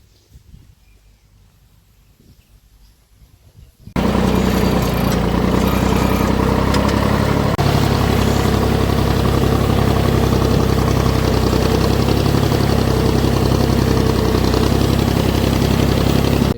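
A tractor engine starts up after a few quiet seconds and settles into a loud, steady idle, its low knocking rumble running close and continuous throughout.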